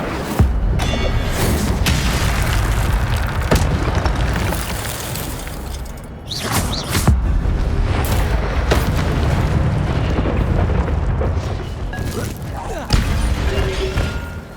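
Fire-spell blasts and explosions in the Hogwarts Legacy video game, with loud booming bursts and crashing impacts over continuous rumbling combat noise, several sharp hits standing out, and voices shouting amid the fight.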